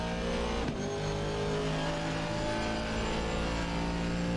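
Race cars, including a Ferrari and a Lamborghini, lap Bathurst in Assetto Corsa Competizione, engines roaring loud and steady with one car shifting early on, no voices over the continuous drone.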